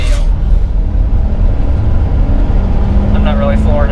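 A car pulls onto a freeway at roughly three-quarter throttle, its engine and road noise forming a loud, steady broadband roar from inside the cabin, with a brief rising tone near the end and a voice briefly heard.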